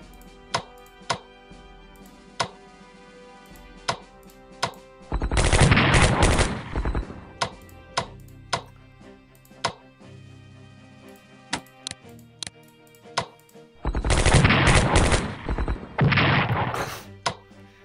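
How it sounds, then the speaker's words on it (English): Tank guns fire in the Strategic Command strategy game: sharp, evenly spaced cracks repeat in a steady rhythm, broken by two longer, dense bursts of loud blasting. No one speaks. "Tank guns, since there's two heavies here."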